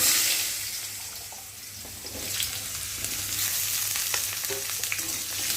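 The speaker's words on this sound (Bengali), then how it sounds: "এখন এই যে কেটে রাখা ডুমো ডুমো আলুগুলোকে দিয়ে ভালো করে ভেজে নেব" Diced potatoes sizzle in hot oil in a pan over already-fried tempering spices, a continuous close crackle with a swell as the potatoes go in and occasional stirring clatter.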